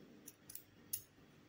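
Scissors snip crochet yarn on a plush amigurumi rabbit, three quick faint clicks close by in a quiet room.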